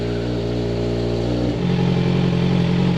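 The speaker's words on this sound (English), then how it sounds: "we're going to let the bike warm up" Yamaha FZ6R motorcycle warming up before an oil change, a close, steady idling engine hum that shifts to a slightly higher, rougher tone midway and keeps running evenly.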